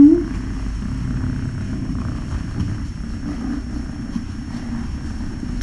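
A kitten purrs enthusiastically up close: a steady, low, rumbling vibration that runs without a break for several seconds.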